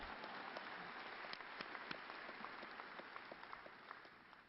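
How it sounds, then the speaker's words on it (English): A graduation crowd claps in a steady, dense wash of applause, with a few sharper individual claps standing out, faint and somewhat distant. "Yeah, you can clap."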